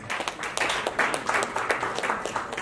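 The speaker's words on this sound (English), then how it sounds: "please, a warm round of applause for Mr." Audience at a summit dinner claps for a guest, a short burst of distinct, irregular hand claps from a modest crowd, fairly close and lively throughout.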